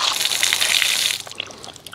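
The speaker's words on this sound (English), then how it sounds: "Let's test this water at full force." Deionized water from a DI rinse system for washing an RV sprays at full force in a steady, loud hiss and gush that eases off partway through.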